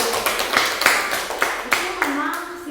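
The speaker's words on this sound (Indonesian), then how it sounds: "tepuk tangan." A group claps in a classroom session, a series of sharp, close claps coming in irregular bursts that fade toward the end.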